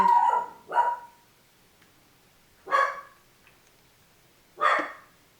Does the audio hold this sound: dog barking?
yes